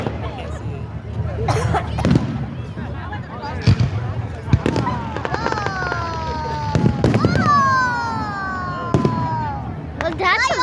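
July 4th fireworks go off in a string of sharp bangs and crackles, with a few rising and falling whistles from rockets, all heard under constant crowd chatter and excited voices.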